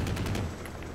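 Rapid bursts of gunfire from a shootout in the action video game Stranglehold, several quick shots in the first half fading into a busy, muffled rumble of combat.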